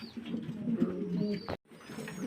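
Fancy pigeons at a farm in Faridpur coo steadily in low, rolling phrases, close and continuous, with a short break of silence before the cooing resumes.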